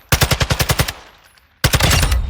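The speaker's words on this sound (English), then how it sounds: "Now I'm gonna hold down the triggers" Machine gun in Warzone 2 fires a rapid burst of about eight loud rounds, trails off into a brief fading tail, then opens up again in another fast, dense burst; no talking.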